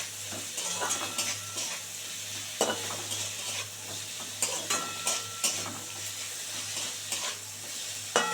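Shrimp tossed with turmeric in a hot pan for a shrimp and greens dish, giving a steady close sizzle of frying with repeated scraping and clinking stirs from a utensil against the pan, no talking.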